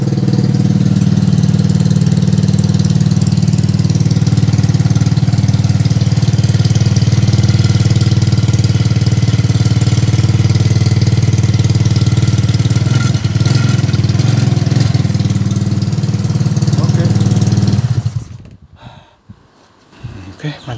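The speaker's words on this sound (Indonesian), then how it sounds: "Sudah hidup, knalpot racing tapi." A loud engine runs steadily with a deep, rumbling racing exhaust, close to the microphone, then cuts off near the end, after repair of a broken bolt.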